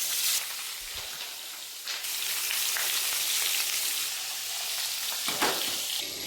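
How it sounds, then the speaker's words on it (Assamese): Koi fish frying in a pan, a steady close sizzle and crackle running throughout with brief stirring bumps, no voices. "মাছটো হাফ ফ্ৰাই কৰি ৰাখি দিছো দুটি ফুল ফ্ৰাই কৰি আছো"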